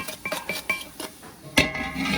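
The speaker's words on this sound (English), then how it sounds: "We're gonna stir them around a little bit longer." Gumbo vegetables being stirred in a pot for an authentic Louisiana gumbo, with a spoon scraping and clinking against the pot in a quick series of close strokes, then a louder knock and a steady sizzle-like scrape at the end.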